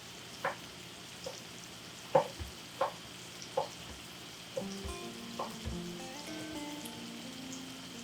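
Mushrooms and onions fry quietly in a pan while a utensil taps and scrapes at uneven intervals, over a soft, rain-like sizzle. No one speaks.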